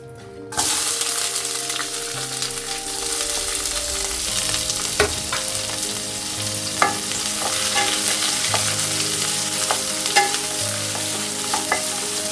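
Onions frying in oil in a pan give a steady, close sizzle with occasional clinks of stirring, no talking over it.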